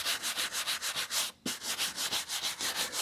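Soft brush strokes sweep dust off vintage Pelican paperback books in a steady, close rhythm of about a dozen passes, with one brief pause midway and no talking.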